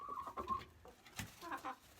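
A little red hen clucks softly nearby, a few short, quiet clucks and throaty murmurs spaced across a couple of seconds.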